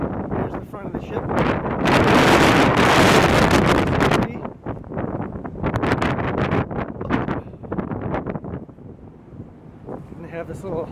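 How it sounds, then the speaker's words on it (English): Strong wind roars across the microphone in heavy gusts on the deck of the container ship CMA CGM Fidelio, with a voice talking intermittently beneath the buffeting. "Super windy."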